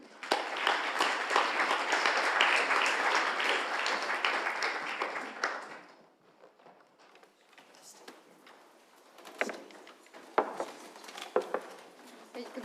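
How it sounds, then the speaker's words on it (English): A crowd applauds loudly for several seconds, then the clapping fades into scattered claps and faint room noise. "Let's give them a round of applause."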